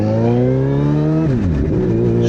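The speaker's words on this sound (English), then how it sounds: "Hopefully it's picking up the exhaust note." A Suzuki Hayabusa fitted with a knockoff Brocks Alien Head slip-on exhaust revs loud and close, its engine note holding steady and then dropping and wavering as the throttle eases off.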